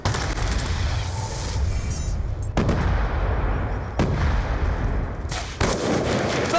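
Gunfire and a concussion grenade in the shooter game Black Ops II, with dense, steady bursts of shots and sharp blasts cutting in repeatedly at close range, loud throughout.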